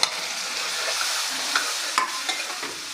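A steady hiss of stir-frying cooked whole masoor lentils in hot oil with garlic tempering, with a few soft scrapes of a spatula, close and continuous, with no talking.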